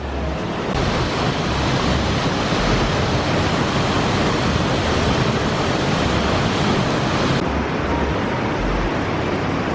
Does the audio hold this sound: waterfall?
yes